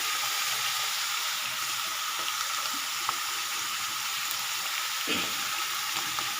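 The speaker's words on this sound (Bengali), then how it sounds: "আমি এখন ভালো করে কষিয়ে নেব মশলা সহকারে সবজিগুলো।" Vegetables cooking in a pan with cumin, coriander, turmeric, dried chili powder and green chili paste, giving a steady bright sizzle throughout, with occasional scrapes and knocks from stirring.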